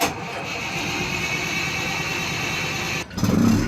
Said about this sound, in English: Finally, 500 litres of diesel later, they're ready to start the engines.